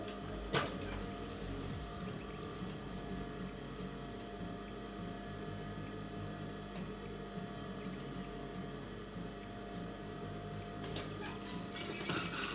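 A sewing machine stitching invisible-thread piping on a blouse runs as a steady, continuous mechanical hum at close range, with no voices heard.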